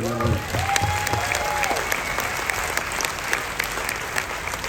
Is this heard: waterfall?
no